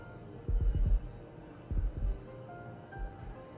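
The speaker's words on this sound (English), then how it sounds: "Now we're hearing our heartbeats." Heartbeats play from a heartbeat-detecting device in the game Love and Deepspace: three clear double-thump pulses, low and soft, spaced about a second apart over a quiet background hum.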